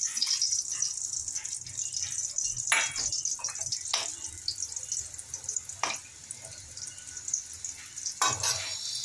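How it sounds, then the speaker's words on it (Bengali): Dried red chillies, a bay leaf, cumin seeds and crushed small and large cardamom sizzle and crackle in hot oil for tempering, with a steady soft fry and a few sharp louder spits. "এগুলো আমি ফোড়নে দিয়ে দিচ্ছি।"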